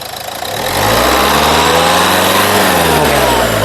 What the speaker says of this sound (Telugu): ఇంజిన్ యొక్క నాయిస్ కూడా చాలా సైలెంట్గా అయితే ఉంది